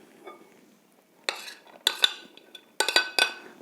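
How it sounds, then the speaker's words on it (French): A utensil clinks and scrapes against a bowl while cooked bacon bits and green olives are mixed into flour for no-knead carrot-juice bread, several sharp close bursts of knocking separated by short pauses. "je vais mélanger de suite pour qu'ils soient recouverts de farine et qu'ils soient bien répartis dans mon pain"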